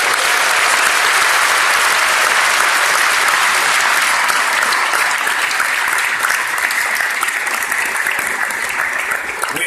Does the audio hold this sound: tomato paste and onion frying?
no